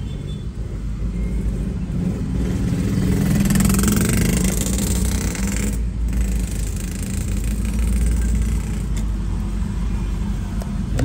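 Steady rumble of heavy traffic in a long jam of cars and motorcycles in Makassar, engines idling and revving close by, with continuous loud road noise and no talking.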